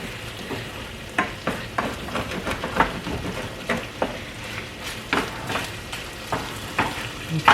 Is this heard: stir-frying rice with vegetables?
yes